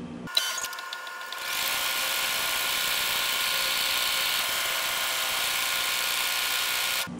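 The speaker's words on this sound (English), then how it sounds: "we're going to make a placement stitch for the batting" A home embroidery machine sewing a placement stitch for batting starts up after a brief click and then runs with an even, continuous mechanical whir that holds steady to the end.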